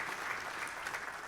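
Faint audience applause at an inaugural lunch and dialogue event: a brief, soft wash of many hands clapping, heard from a distance.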